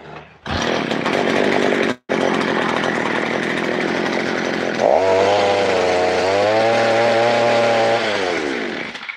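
A grass cutter's small two-stroke engine is pulled, catches and runs loud and close with a buzzy, chainsaw-like rasp, briefly cutting out, then settles into a steady idle with a lower, rising-and-falling drone.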